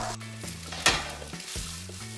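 Bourek filling seasoned with mild chili sizzles softly in a pan, with a few stirring scrapes and a brief louder clink partway through.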